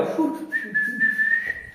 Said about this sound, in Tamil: ஒருத்தன் விசில் அடிக்கிறான்